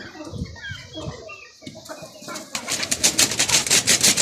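Colombian Brahma chickens and roosters, buff and light-coloured birds, cluck and call in a pen, with soft bird calls at first giving way to louder, busier clucking and rustling.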